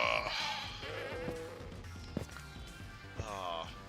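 A few short bleats from a Minecraft goat, small synthetic calls scattered over quiet background noise with brief thumps between them.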